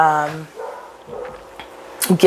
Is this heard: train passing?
no